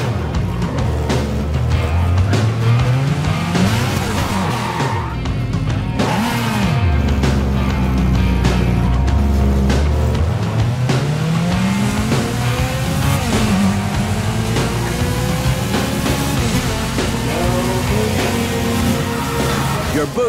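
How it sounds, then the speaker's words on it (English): Speed class car driving in the Burnout Paradise video game, its engine roaring loudly and continuously with rising and falling revs, alongside talk throughout. "When you're driving a speed class car like this one, you can only boost when your bar is full."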